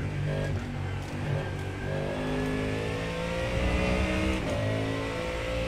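Ford Mustang GT3 race car engine in the iRacing sim, a loud brutal V8 revving and shifting through gears, pitch climbing and dropping repeatedly with a steady roar and no voices.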